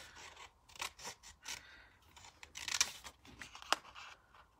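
Scissors cut through paper for a paper-piecing stamping craft, giving a series of quiet, close snips and rustles in irregular bursts.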